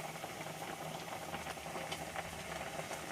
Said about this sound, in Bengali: তরকারিটা ভালোভাবে ফুটে গেছে